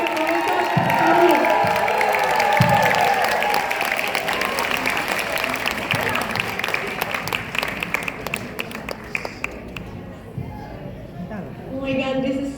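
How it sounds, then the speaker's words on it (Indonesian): Audience applause for a professor at an event, a loud sustained wash of clapping with cheers and whoops that thins out toward the end, where a voice begins speaking. "tepuk tangan untuk Profesor kami."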